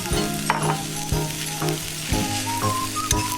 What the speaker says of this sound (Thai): คลุกเคล้าส่วนผสมทั้งหมดให้เข้ากันดีนะคะ ก็จะผัดจนกว่า ข้าวนะคะ สีสวยเสมอกันดีค่ะ